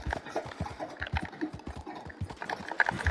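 An Arabian horse ridden in Red Dead Redemption 2 gives a steady, rapid clip-clop of hooves through the whole stretch, close and fairly loud, with no talking over it.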